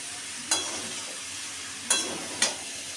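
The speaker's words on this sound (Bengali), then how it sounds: "এবার আমি কাঁঠাল আর আলুগুলো এবার ঢেলে দেব তো এবার এগুলোকে ভালো করে নাড়াচাড়া করে দেবো মশলার সাথে" Jackfruit and potato pieces are stirred with spices in a pan: three distinct scraping strokes land over a faint, steady sizzle, close and moderately loud, with no voices.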